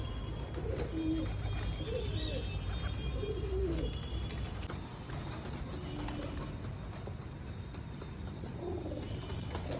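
Pigeons coo repeatedly at a home loft, soft throaty calls recurring across the stretch over a steady background hum, with no talk.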